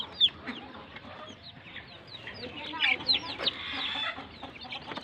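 A hen with many chicks clucks softly nearby while the chicks give high peeping chirps in scattered bursts, with faint human voices in the background.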